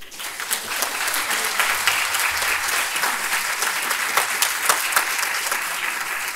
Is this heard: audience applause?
yes